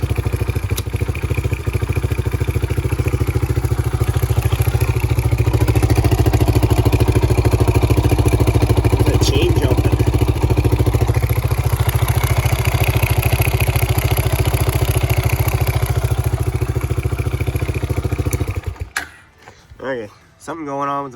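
Engine of a Honda 300ex ATV with a fault, running steadily with a chopping idle and clatter as gears are shifted, close and loud for most of the time before cutting out near the end, with speech over it.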